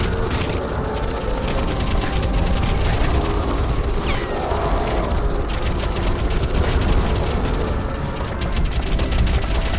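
Weapon fire in Crysis Remastered, loud dense bursts of rapid shots with mechanical clatter, sustained and close throughout with no pauses and no talk.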